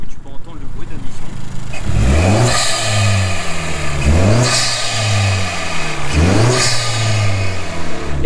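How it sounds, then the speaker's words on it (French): Intake noise from the front of a Honda Civic Type R FK2 engine swells through three loud, evenly spaced revs, each dropping back toward idle, heard close up with some talk mixed in. "tu peux entendre le bruit d'admission."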